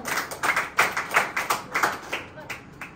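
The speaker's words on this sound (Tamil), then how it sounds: "கைத்தட்டி ஆண்டவர் மகிமைப்படுத்துங்க." A church congregation clapping hands in steady rhythmic beats during a Tamil Christian sermon, a series of sharp, even claps close by that thin out toward the end.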